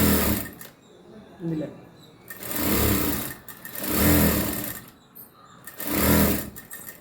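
A sewing machine runs in short repeated bursts while stitching round neck piping from folded cross-cut bias strip, with a voice speaking between and over the runs.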